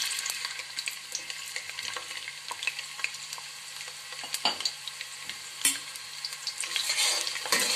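Onions fry in oil in a cooking pot for a vegetable pulao, giving a soft continuous sizzle broken by scattered stirring clicks and scrapes, close but moderately quiet, with no voices.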